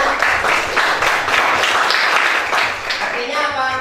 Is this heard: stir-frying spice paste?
no